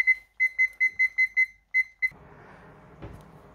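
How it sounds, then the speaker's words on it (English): A kitchen timer being set for boiling marmalade gives a run of about eight sharp, evenly spaced electronic beeps, loud and close, followed by quiet kitchen room noise with a soft knock. "we'll set a timer for 15 minutes, because it needs to boil for 15 minutes"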